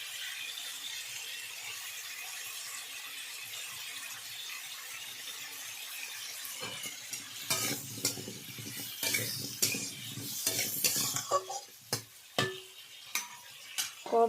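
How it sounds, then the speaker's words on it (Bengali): Chilli powder and spices sautéed in a pan on low heat for a sour shol fish dish with mango, a faint quiet start building into clinking spatula scrapes and stirring against the pan, no voices. "কম তাপে কিছুক্ষণ সাঁতলিয়ে নেব"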